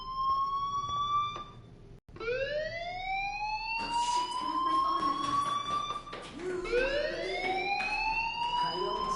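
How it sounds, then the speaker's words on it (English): A fire alarm in the video game Life is Strange wails in repeated rising electronic sweeps, loud and continuous, with one brief break before the tone climbs again. "do you hear that fire alarm? That means you should be outside."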